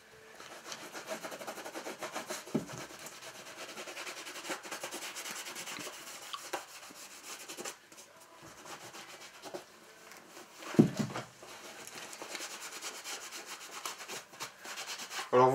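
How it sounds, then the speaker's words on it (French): Cleaner is rubbed onto a leather boot, making soft, continuous scrubbing and brushing strokes at close range, faint and steady throughout with occasional small knocks. "nous allons prendre la botte, un nettoyant qui est celui-ci, et nous allons nettoyer la botte."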